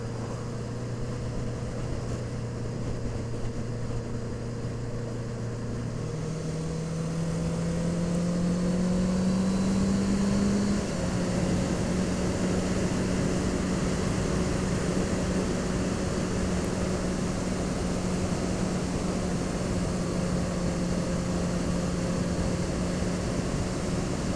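A Honda CB650F motorcycle on a winter ride gives a steady engine drone, its pitch stepping upward as it accelerates, with wind rush throughout and no talking.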